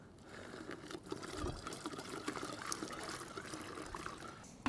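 Water poured into a beer kit fermenter while brewing, a faint continuous trickling and splashing stream with no talk.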